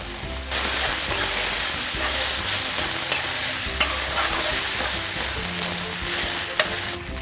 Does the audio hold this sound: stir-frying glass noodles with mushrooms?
yes